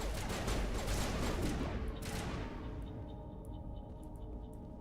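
Gunfire from Mass Effect Legendary Edition crackles in a dense, rapid burst for about two seconds, then falls away into quieter ambient game sound with faint distant pops.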